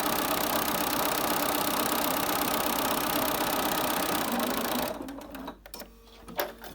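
A sewing machine stitches a cloth face mask along its curved seam, running in a steady, fast mechanical whir for several seconds before stopping, followed by faint handling clicks.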